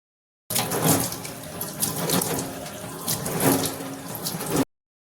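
Water runs steadily from a tap into a container, a close, continuous splashing gush with slight gurgling variation, starting abruptly and cutting off cleanly after about four seconds.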